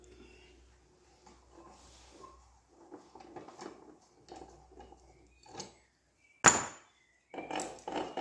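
A wrench works on the wheel nut of a Volpino diesel walking tractor, giving quiet metallic clinks and scrapes followed by a sharp clank and further rattling, close and intermittent.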